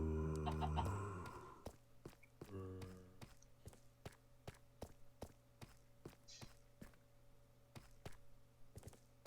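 A Minecraft chicken gives a couple of short clucks near the start, followed by a steady run of light footsteps over quiet background music.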